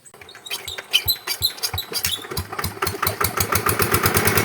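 A Kubota-engined hand tractor used to harrow a wet rice paddy cranks and catches, its small engine firing in a quickening, steady chug close by. Loud and alone, with no talk over it.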